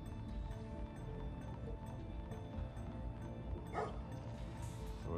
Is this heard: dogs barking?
yes